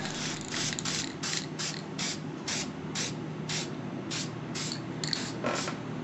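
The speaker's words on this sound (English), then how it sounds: "I also have a can of gray spray paint that can give me some highlights" Short hissing bursts of a spray can, pressed repeatedly in a steady rhythm, close by with small clicks between sprays.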